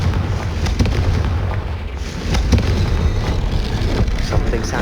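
Explosive fire spell bursts in Hogwarts Legacy, a continuous loud rumbling blast with several sharp cracking booms layered over a dense low roar, no speech.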